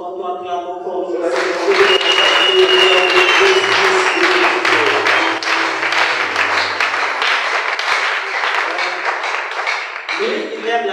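A church congregation applauding and cheering during a service, sustained loud clapping from many hands for most of the stretch, with a voice before and after the applause.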